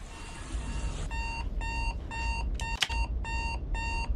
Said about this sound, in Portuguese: Você acorda quando o despertador toca